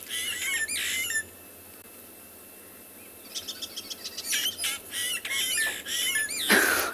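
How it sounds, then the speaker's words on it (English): Starlings on a South African safari give harsh, scolding alarm calls in repeated bursts, with a quiet gap and then a rapid, agitated series of chirps and squawks at moderate distance. "The starlings are not happy"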